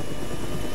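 Medium utility helicopter rotor spinning down in the video game ArmA3, a loud steady whirring drone of blades and engine, dense and continuous with no speech over it.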